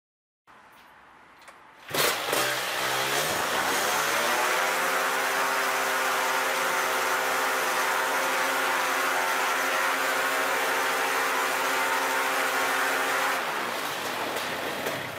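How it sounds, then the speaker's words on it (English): A Polini Thor 250 DS paramotor engine with a freshly adjusted carburetor starts after a quiet moment, revs up and holds a steady, loud, smooth drone at its 8000 RPM maximum, then eases slightly near the end. "the engine has attained the maximum RPM of 8000 and is now running smoothly"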